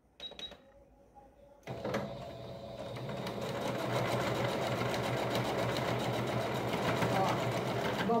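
A sewing machine runs steadily, stitching a fabric wallet up close after a brief pause at the start, its motor whir and rapid needle chatter continuous for most of the clip.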